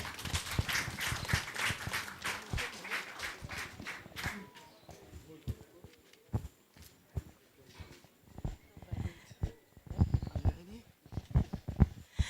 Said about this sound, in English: let's give them a warm welcome, a round of applause.